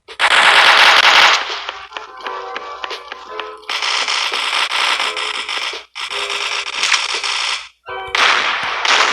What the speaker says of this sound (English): This is a slow sniper.